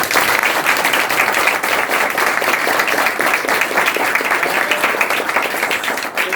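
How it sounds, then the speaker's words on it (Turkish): Loud, dense audience applause after a youth workshop's year-end theatre play, a thick sustained roar of many hands clapping without pause. "O yüzden biz sizi böyle gerçekten güçlü alkışlıyoruz."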